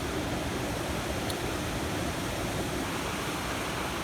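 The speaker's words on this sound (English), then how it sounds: "these reservoirs that have now been overflowing for several days" Water pours over the spillway of Agden Reservoir in Sheffield after days of overflowing, a loud, unbroken broadband rush like a waterfall, steady and close throughout.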